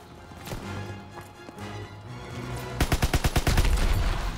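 Gunfire from a gun in Call of Duty: WWII, a fast run of about eight evenly spaced loud shots near the end, after a stretch of rumbling ambient game sound.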